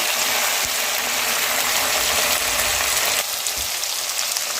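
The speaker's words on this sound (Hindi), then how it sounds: "मैंने इसमें मटन ऐड कर दिया अपना, इसको हम थोड़ी देर भूनेंगे।" Mutton pieces fry in a pan for a black pepper mutton karahi, giving a steady, dense sizzle that fills the whole stretch, close and fairly loud, with a few faint low knocks beneath and no talking.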